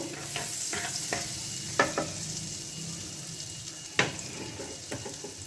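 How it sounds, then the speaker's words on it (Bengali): Butter melts and sizzles softly in a pan over a low flame, a quiet bubbling hiss broken by a couple of sharp utensil clinks, with no talking. "বাটারটা দেওয়ার পরে কিন্তু আঁচটা একদমই লো ফ্লেমে থাকবে। দিয়ে বাটারটা মেল্ট হয়ে যাওয়ার পরে"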